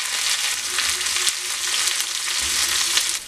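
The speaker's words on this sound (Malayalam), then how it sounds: "കറിവേപ്പില, പച്ചമുളക്, ഇത് നല്ലപോലെ മൂപ്പിച്ചിട്ട്" Curry leaves and green chillies frying in hot oil give a steady, close crackling sizzle with small pops and light stirring, no voices over it.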